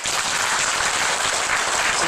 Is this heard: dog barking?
no